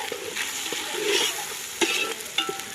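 Tomatoes going into a pan of frying pulao masala, a steady loud sizzle with scraping stirring strokes and a few sharper clinks, heard up close.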